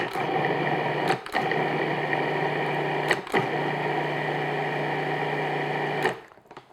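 A food processor whirring steadily as it mixes tart pastry dough of flour and butter, a loud continuous motor drone broken by brief pulses before it stops.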